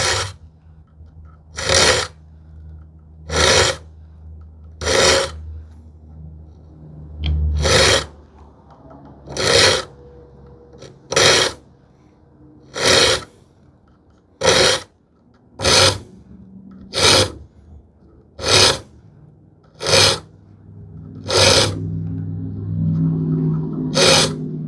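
Hand file sharpening saw teeth, producing about fifteen sharp, bright rasping strokes at a steady rhythm, close and loud, each one separated by a brief quiet gap.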